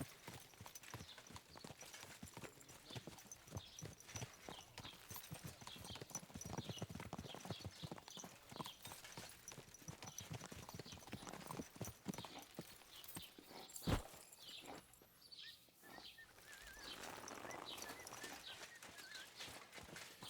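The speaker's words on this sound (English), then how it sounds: "Is this your first time riding a horse?" Horse hooves clip-clop in a steady rhythmic gait while riding in Kingdom Come Deliverance II, with a brief sharp knock midway and birds faintly in the background.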